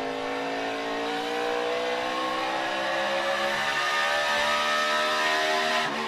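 A NASCAR Cup Series car screams through a qualifying lap, its engine holding a loud, steady high-pitched whine that rises slightly in pitch as it passes close by, with no talk over it.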